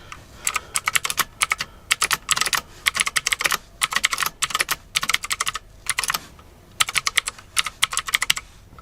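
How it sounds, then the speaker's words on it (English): A cheap budget mechanical keyboard is typed on in rapid bursts of crisp clicking keystrokes separated by short pauses, close and clear with no talking. "I typed a whole bunch of stuff on screen"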